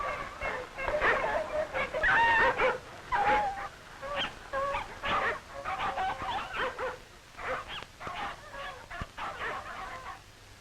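Sled dogs yelp and bark in a noisy, overlapping chorus of howls and yips, fairly close and continuous, with no clear speech.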